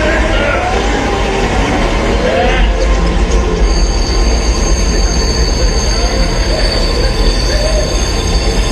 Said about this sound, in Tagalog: Pahintuin natin ang train!